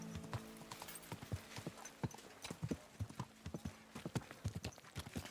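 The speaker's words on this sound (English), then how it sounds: "Pebbles, the majestic delivery steed." Hooves of a horse named Pebbles, a delivery steed in a medieval game, clip-clop in a steady, brisk rhythm close by, with a brief whinny among the footfalls.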